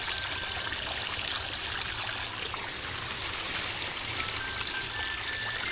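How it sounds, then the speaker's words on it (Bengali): Water trickles steadily onto lemon and flowering cardamom plants in a village garden, a continuous close pouring and splashing stream with no talk over it. "লেবু গাছগুলো একটু জল কাটি দাও"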